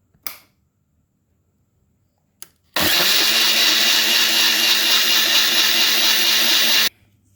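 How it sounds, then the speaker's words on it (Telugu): A kitchen mixer grinder blends coriander leaves with water into juice, a loud, steady whirring roar running about four seconds, preceded by two quick clicks of the lid and switch. "దీన్ని మిక్సీ పట్టేసుకుందాం."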